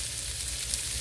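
Carrots hit a hot non-stick pot and sizzle steadily, a close, even crackling hiss for about a second with no voice.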